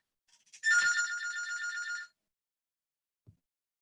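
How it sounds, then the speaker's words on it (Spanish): A telephone bell rings once in a single sustained trill of about a second and a half, clear and isolated in a quiet room, followed by a faint click. "ahí me sonó el teléfono"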